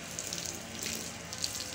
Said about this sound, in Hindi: आप पानी डालो, अच्छे से सरफ निकालो